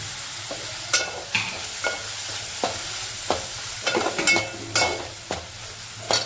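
Onion, fresh ginger paste and chopped tomato cook in a pan for a pea and potato curry, with a soft frying sizzle under repeated sharp spoon clacks and scrapes against the pan, close up.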